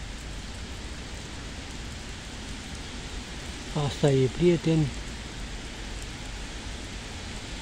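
Steady rain falling outdoors in a park in Târgoviște, Romania, a continuous broadband hiss throughout, with someone briefly speaking over it midway.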